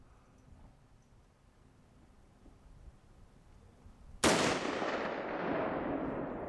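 A single loud M1 Garand rifle shot during an outdoor shooting contest, a sharp crack followed by a long decaying rumble after a quiet lead-in.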